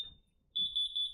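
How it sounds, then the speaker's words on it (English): Home alarm system being armed, giving a single short high beep followed by a steady run of quick, close electronic beeps in an otherwise quiet room. "It's basically that whole alarm system you just saw. I can arm it."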